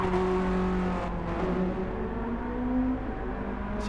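Race car in Gran Turismo 7 during a heritage endurance race, engine droning steadily with shifting pitch as it runs past, loud and continuous throughout.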